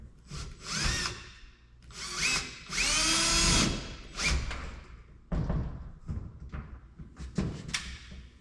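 A power drill drives bolts into a grab handle on a Kenworth cabover truck in several whirring bursts, one longer sustained run in the middle, with short pauses and a few knocks between bursts.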